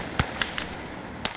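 Mine explosions detonate in the World War II strategy game Call to Arms: Gates of Hell Ostfront, on a US conquest map. Several sharp, fairly distant blasts crack out at irregular intervals over a low battlefield rumble.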